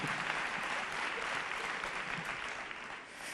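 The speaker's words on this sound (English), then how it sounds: "You can applaud that." A large conference audience of over a thousand people claps in a sustained burst of applause, dense and even, fading slightly near the end, heard from within the hall.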